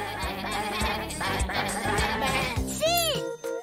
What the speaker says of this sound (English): Shh. Sheep.